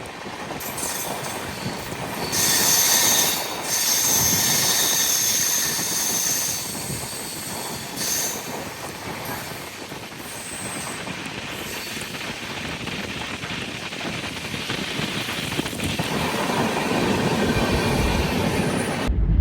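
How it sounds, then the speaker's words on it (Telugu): The Andaman Express, hauled by a WAP-7 electric locomotive, passes close by, a loud sustained rumble of wheels and wagons with rhythmic clatter and high squeals lasting throughout. "అదిగో అండమాన్ ఎక్స్ప్రెస్. లాలాగూడ వ్యాప్ 7 లోకోమోటివ్."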